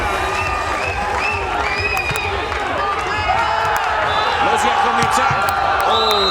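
A home crowd at a beach volleyball match cheers and whoops steadily, a dense, loud roar of many voices with scattered shouts rising throughout.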